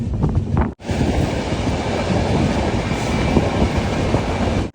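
A loud, steady rumble of a long-distance train running on rails near Guwahati, Assam, close and continuous, with a brief cut near the start before the noise resumes.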